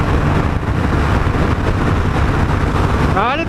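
A Honda Rebel 1100 DCT motorcycle accelerates hard in sixth gear toward top speed, a loud, steady engine roar mixed with heavy wind rush, with a brief rising whine at the end.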